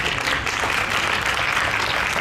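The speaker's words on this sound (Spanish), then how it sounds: "ahora el aplauso es para ustedes por permanecer estas horas." Sustained audience applause at a panel discussion event, a dense, steady wash of many hands clapping at once, fairly loud and unbroken throughout the short stretch with no voice on top.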